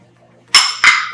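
Garlic cloves dropping into a blender jar with two quick, sharp clinks close by, the second following just after the first, over near silence.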